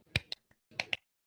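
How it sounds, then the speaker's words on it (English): A few hand claps during a podcast conversation, sharp isolated slaps in two quick pairs, close and dry against near silence. "You don't need to clap."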